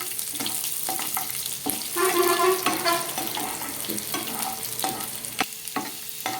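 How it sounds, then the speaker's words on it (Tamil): Curry leaves and whole unground garlic cloves fry in sesame oil for a garlic thokku, a close, busy sizzle broken by stirring clinks and scrapes against the pan, with no talk. "இப்போ கருவேப்பிலை போடுறோம் இப்போ அரைக்காத வெள்ளை பூண்டு போடுறோம் போட்டு நல்லா இது கொஞ்சம் வாங்கட்டும்"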